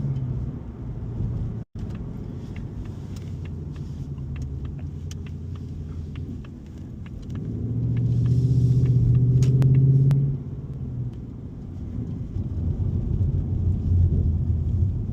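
A 2025 Ford Mustang GT's deep engine rumble swells and fades during a nighttime drive, with scattered sharp crackling pops from the exhaust throughout.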